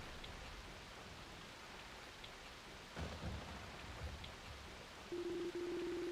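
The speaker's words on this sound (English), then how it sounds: "Only the sound of the falling rain and constant thunderclaps can be heard echoing through the darkness." Falling rain in the video game Ys: Memories of Celceta, a steady soft hiss of rainfall through darkness with a few low rumbling thunder thumps midway, faint and continuous.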